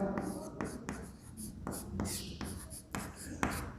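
A hand writes a maths equation on a surface in a class 10 linear equations lesson, producing a steady run of short, crisp scratching strokes with brief pauses, close and clear.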